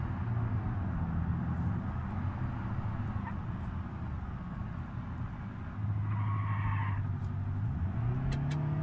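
Car engine droning and revving in a driving video game, a steady low hum with rising pitch sweeps as the car accelerates, continuous and fairly loud with no talk.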